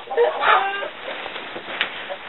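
Chicken in a backyard chicken coop clucking close by, a few soft throaty clucks and a sharper note, alone without talk.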